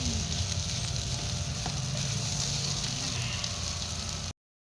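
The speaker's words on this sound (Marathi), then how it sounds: "आता हे मसाले आपण यामध्ये मिक्स करून घेऊया एकसारखं हलवत राहायचंय सगळ्या बाजूने आपण मसाला व्यवस्थित परतवून घ्यायचा आहे" Spice masala for a green pea kachori filling is stirred and roasted in a pan, a continuous close sizzle with light scraping that cuts off abruptly near the end.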